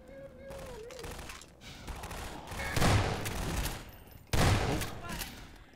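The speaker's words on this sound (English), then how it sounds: "Shotguns for the win." Shotgun blasts in the video game Half-Life 2, with two heavy booming shots a couple of seconds apart amid other game noise and a continuous rumble.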